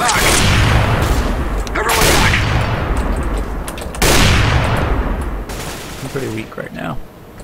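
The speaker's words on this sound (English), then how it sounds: "They're shooting for the smoke." Bursts of rapid gunfire from CS:GO on the Office map, loud and close in several sharp volleys, with players talking over and between the shots.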